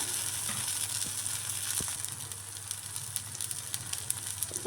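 Adai batter made Thanjavur style fries in sesame oil in an appam pan, giving a steady soft sizzle and crackle with faint low hum beneath and no talk.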